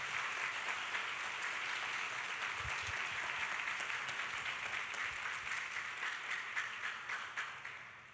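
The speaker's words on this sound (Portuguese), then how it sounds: "Vamos aplaudir o Senhor Jesus?" A church congregation claps together during a sermon, steady moderate applause that carries on for several seconds before tapering off at the end.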